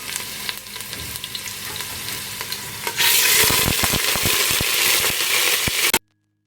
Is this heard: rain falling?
no